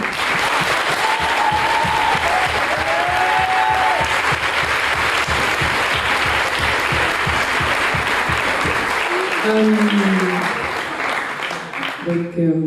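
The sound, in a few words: audience applause for speakers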